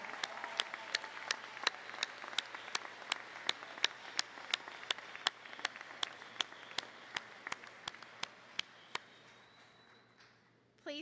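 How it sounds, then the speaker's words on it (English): Graduates at a 2019 college commencement stand and applaud their families and mentors, a broad, moderately distant wash of clapping with a few sharp, distinct claps standing out, fading toward the end. "please stand up, applaud your family, friends, mentors, everyone who has impacted you"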